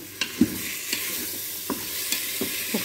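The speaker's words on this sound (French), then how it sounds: "je vais remuer avec une cuillère en bois pour pareiller mon Cookéo" Veal being stirred with a wooden spoon in a Cookeo pot as it browns: soft scraping knocks of the spoon over a continuous, close frying sizzle.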